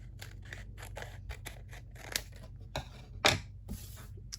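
Scissors trim the excess edge off a sheet of single-sided paper, a quick run of crisp snips close by, with one louder cut near the end.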